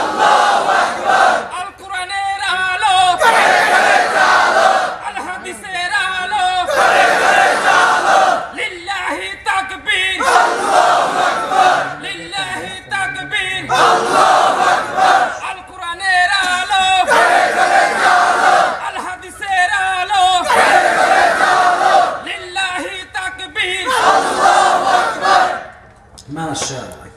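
A large crowd at a Bangladeshi religious sermon gathering chants the takbir slogan Allahu Akbar in loud, repeated call-and-response bursts led by a single voice, roughly every two to three seconds throughout.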